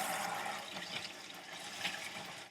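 Warm tap water runs steadily into a sink while a lace wig is washed, a continuous close splashing flow with small fluctuations and no talking.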